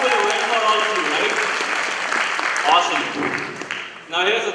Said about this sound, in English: Give some round of applause for him for hosting a wonderful event for all of you, right?